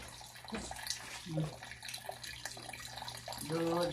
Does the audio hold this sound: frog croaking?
no